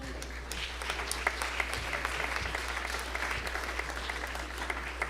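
A church congregation applauds at a Sunday service, a dense, steady wash of many hands clapping that carries through the whole stretch with no talking over it.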